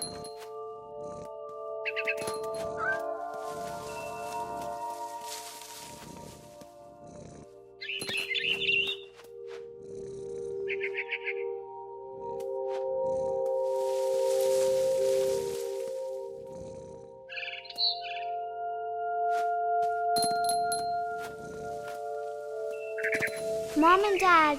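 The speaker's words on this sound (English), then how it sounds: "It was a barn swallow going back to her nest." A frightened barn swallow in What Remains of Edith Finch gives several short, bright chirping bursts at intervals, set against a sustained musical background with faint ambient sounds.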